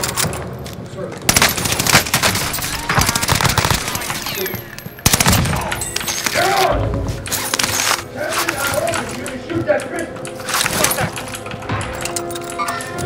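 An OTS gun fires in Warzone's Rebirth Island mode, with rapid automatic bursts and sharp shots crackling up close amid game noise. A player talks over the gunfire.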